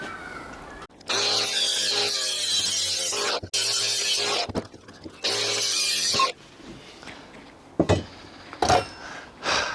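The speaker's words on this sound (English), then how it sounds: "first job, grinder, cut this up." An angle grinder cuts through steel box section in a workshop, with several loud, sustained cutting runs separated by brief pauses, then scattered clanks and knocks as the pieces are handled.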